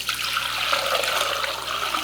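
Homemade limoncello, lemon liqueur, pours into a bowl through a wire mesh strainer, a close, steady trickling splash that runs without pause for two seconds, with no voices.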